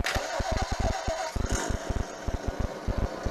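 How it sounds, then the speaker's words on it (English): A simulated engine sound from the speaker of a brushless Tamiya Blitzer Beetle RC car cranks and fires into a rapid, putting idle, with steady rhythmic pulses and a whirring fan underneath. "once I fire up the speaker, give it a little throttle and it'll start it up"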